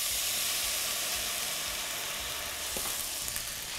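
Red wine hits a hot pot of roasted vegetables for a vegan vegetable ragout, producing a loud, steady, close sizzle and hiss that continues without pause or talking.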